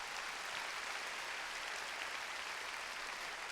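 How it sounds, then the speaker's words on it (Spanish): A church congregation at a Tuesday service claps steadily as one broad, even wash of applause, distant and fairly soft, with no voices rising above it. "Denle un aplauso al Rey de Reyes"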